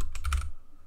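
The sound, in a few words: typing on a computer keyboard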